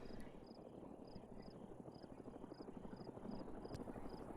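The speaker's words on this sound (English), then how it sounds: "That sound like a fucking Huey." A Huey helicopter in the video game ArmA passes overhead, its steady low rotor thrum droning faintly and continuously with no talk over it.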